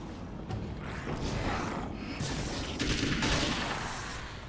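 Assault rifle fire rattles through Alan Wake's American Nightmare, a dense, continuous stream of rapid shots with a few heavier cracks standing out, fairly loud and steady with no talking over it.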